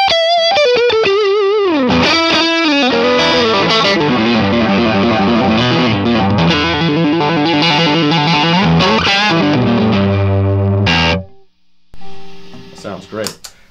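Electric guitar with a Mojotone '67 Quiet Coil Strat pickup on the neck position, played with light overdrive: sustained distorted chords and lines ring loud for about eleven seconds, stop, then a few softer notes follow.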